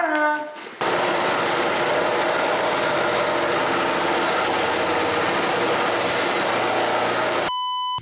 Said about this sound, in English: she called it a buff sander